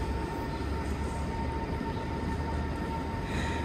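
A high-speed train pulls out of a station in Oslo, a steady, moderately distant rumble with a faint sustained tone above it.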